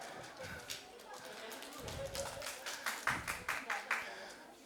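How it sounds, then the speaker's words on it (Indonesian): An audience at a haircut demonstration gives a short round of light applause, distinct claps rising toward the end, heard under a man's speech. "tepuk tangan buat dia ya"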